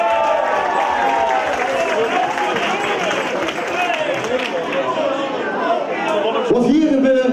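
Loud, sustained applause and cheering from a carnival contest audience for the DJ, a dense crowd roar with voices mixed in, swelling near the end.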